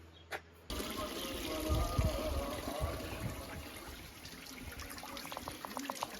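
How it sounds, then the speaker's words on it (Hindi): Drinking water flows from somewhere behind a hill near a village, a steady trickling stream that runs close and moderately loud after a brief quiet opening, with occasional splashes. "ये पानी आ रहा है कहीं से इस पहाड़ी के पीछे से"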